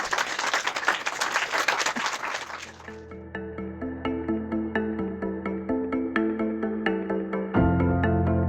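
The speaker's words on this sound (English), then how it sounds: "a big round of applause." A brief burst of audience applause at an engineering panel closes after about three seconds, giving way to a bright, rhythmic electronic music sting with plucked tones.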